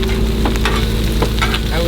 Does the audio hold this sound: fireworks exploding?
no